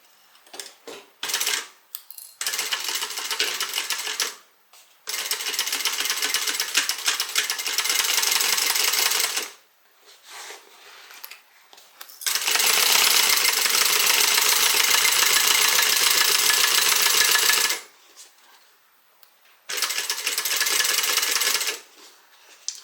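Home sewing machine running in several sustained bursts while stitching the side seam of a Fairhaven tote bag with a solid front and contrasting sides, the motor's steady whir broken by short pauses between runs.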